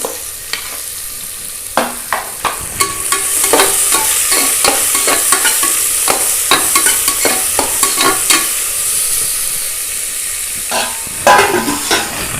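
Onions and green chillies fry for mutton biryani in a loud, steady sizzle, with a utensil repeatedly scraping and stirring through the pan in uneven bursts, close up and without speech.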